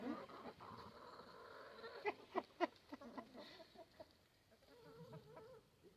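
Chickens cluck on a farm that also keeps goats, with a few sharp nearby clucks and squawks standing out over a steady background of fowl and yard noise.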